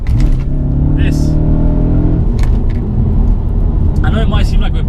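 An Audi RS4 B7 engine revs hard and climbs, its loud, close roar sustained throughout, while people talk over it.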